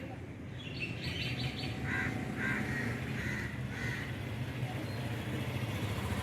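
Small birds chirp in trees and a crow caws in short bursts over constant outdoor background noise, with faint traffic, on an evening walk.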